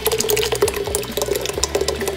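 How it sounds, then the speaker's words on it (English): Blended tomato mixture is poured into a pot of chicken broth for a simple tomato basil soup, making a continuous liquid splashing and gurgling for about two seconds, close by, with a faint tonal hum underneath. "I'll pour my tomato mixture in."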